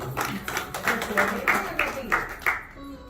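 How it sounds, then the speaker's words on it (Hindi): Audience clapping at a Hindi Kartik Mahatmya religious discourse, a string of about eight sharp, rhythmic, fairly loud group claps over roughly three seconds. "बजाओ ताली जोर से एक बार"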